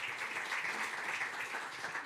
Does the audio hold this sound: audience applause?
yes